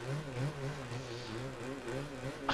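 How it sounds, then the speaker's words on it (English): Rally car engine in the Assetto Rally video game, a steady droning hum with wavering pitch that rises and falls slightly as the revs shift, continuous and fairly close throughout. "I can't seem to get the revs up on this car."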